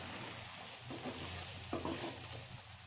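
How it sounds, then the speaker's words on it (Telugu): Idli pieces sizzle and fry in a hot pan for chilli idli, with a steady crackling hiss and a few soft stirring scrapes partway through, close by and without voices. "ఇడ్లీలు చూడండి ఎంత కాగుతున్నాయో"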